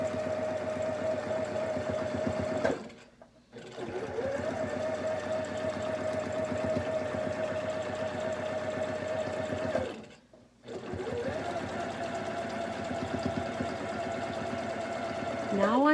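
A sewing machine free-motion quilting a Double Wedding Ring quilt, running in long, fast, steady bursts with two brief pauses where the stitching stops and restarts.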